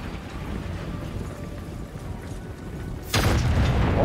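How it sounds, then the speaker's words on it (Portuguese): A single booming artillery cannon shot in the video game Total War: Warhammer 3 breaks through a low background rumble near the end, sharp and loud, followed by a rolling echo. "Olha só, artilharia, ela atira, quem diria?"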